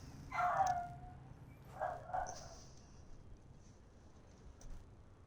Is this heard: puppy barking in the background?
yes